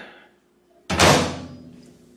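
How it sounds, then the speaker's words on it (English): After a quiet moment, a single sharp clunk as a microwave door pops open, followed by a brief fading rattle. "Let's open the door."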